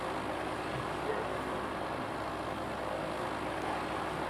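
A video game airplane engine drones as a steady, dense, unchanging roar throughout, with no talk over it.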